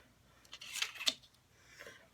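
Scissors snipping through paper to cut out a mason jar shape for a stamped card, two quick close cuts in a quiet room followed by a fainter third snip.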